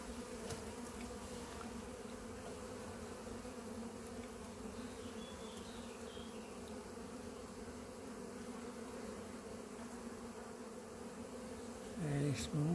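A swarm of very small black bees drones steadily around beekeeping equipment left uncovered outdoors, a continuous, soft, even hum with faint handling noise near the end.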